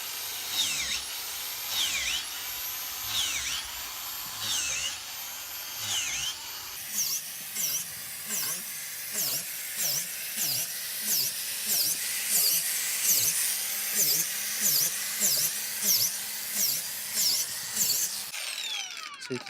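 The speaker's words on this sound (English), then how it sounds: "we're going to drill holes about every 8 inches in a diamond pattern" A power drill repeatedly bores holes into oak logs for shiitake mushroom inoculation, each hole a rising-and-falling whine with a steady rhythm of about one bore per second, loud and close, continuing through the whole stretch.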